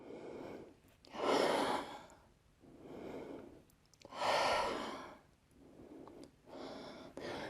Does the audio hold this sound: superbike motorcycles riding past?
no